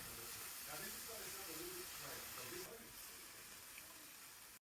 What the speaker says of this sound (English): add in some chopped onions, then mix everything and fry until the meat changes its color